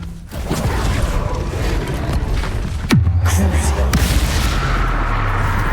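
A Bombarda spell explosion in the Hogwarts Legacy video game lands as a sudden booming burst midway through a dense bed of battle noise, with voices heard in the mix.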